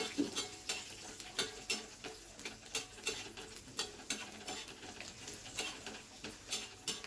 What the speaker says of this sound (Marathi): स्लो गॅसवर भाजायचं आहे, म्हणजे शेंगदाणे आतून भाजतील चांगले.